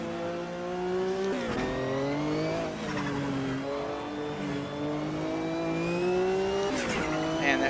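Turbocharged race car engine in a racing video game, rising through gears with repeated shifts, loud and continuous, with a brief tire squeal.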